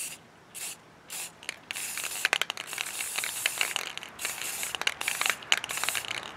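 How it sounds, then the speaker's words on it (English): Brown Rust-Oleum spray paint hisses from a can onto a hiking stick in short repeated bursts, close and fairly quiet, with no talking. "I'm just gonna paint it with this brown Rust-Oleum."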